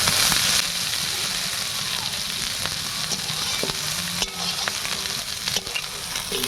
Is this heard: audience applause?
no